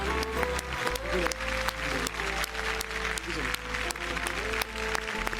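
A studio audience on a Marathi singing-competition TV show claps for a band, a full, sustained burst of applause with a faint tonal backing underneath.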